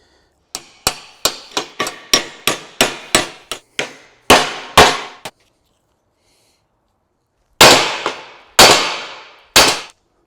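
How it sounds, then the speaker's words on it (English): Hammer blows on a rebuilt Spidertrax axle shaft U-joint to shock it loose: a rapid run of about a dozen sharp metallic strikes, then a few heavier, ringing whacks after a pause, close and loud with no talk. "If you just take your hammer and you give it a whack right there and right there, it seems to shock it out"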